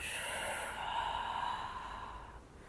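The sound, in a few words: exhaling breath while bringing knees to chest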